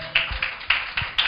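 A church congregation claps in a brief rhythmic burst, four or five sharp, close hand claps at a steady beat, loud and clear with nothing else over them.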